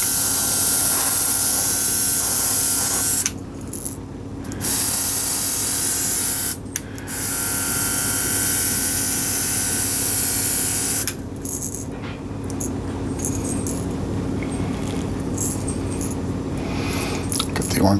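A USB portable airbrush sprays paint in a steady hiss, loud and close, cutting off briefly a few times before resuming; a person talks near the end.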